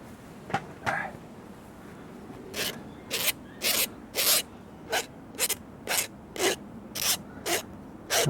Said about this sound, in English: And we can square it up with the file